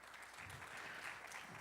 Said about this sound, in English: can we have one more round of applause for Mayor Newton?